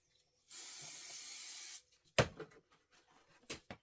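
A spray can hisses in one steady burst of about a second and a half, followed by a few sharp knocks and small handling noises.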